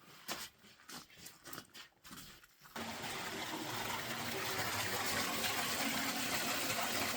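Snow meltwater trickles and runs steadily close by in a slot canyon in Grand Staircase-Escalante after a few quiet scuffs, a continuous wet rushing that fills the rest of the clip.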